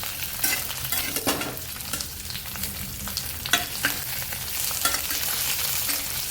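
Masala and onion roast in a pan while cashews and garlic are browned, a steady close sizzle broken by scattered scrapes and stirring knocks, with no talking throughout.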